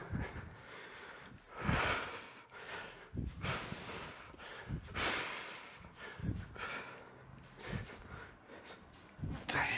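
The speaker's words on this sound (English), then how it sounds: "Apologies if you can hear my breathing." Heavy, rhythmic breathing from someone in the middle of a kettlebell workout, with close, effortful gasps and puffs recurring through the clip and no talking.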